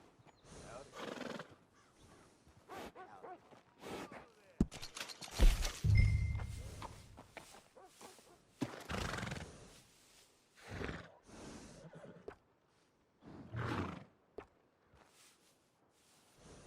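A horse in Red Dead Redemption 2 whinnies and snorts close by, with hoof clops and breathy sounds scattered between quiet gaps.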